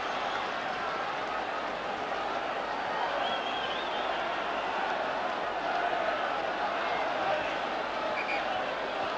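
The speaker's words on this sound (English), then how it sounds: "The crowd got behind them." Crowd cheering and roaring at a rugby league cup semi-final between Oldham and Warrington, a dense, sustained wall of noise that stays loud throughout, with a commentator's voice over it.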